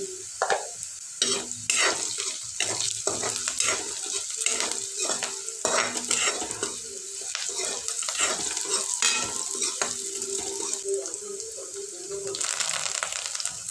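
Onion with salt sautéing in a pan, a lively sizzle with repeated scraping stirs of a spoon against the pan in uneven bursts, close and fairly quiet, with someone talking at times.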